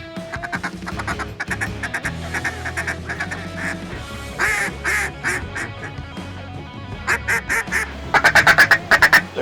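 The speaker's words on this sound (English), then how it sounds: "We got two mallards on the left." Two mallard ducks quack repeatedly at close range in bursts of rapid calls, growing louder and faster toward the end, with faint background noise.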